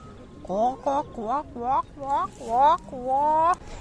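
A chicken clucks in a series of short bursts, about seven calls in quick, uneven rhythm, close and fairly loud.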